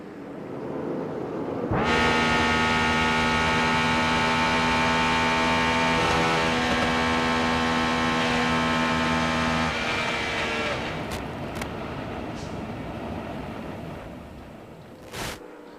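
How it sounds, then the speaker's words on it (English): An IndyCar engine lets go on the front stretch at the Indy 500: a loud, sustained high-pitched engine wail that cuts off abruptly, followed by fainter crowd and track noise. "Tony Stewart's engine blew on the front stretch"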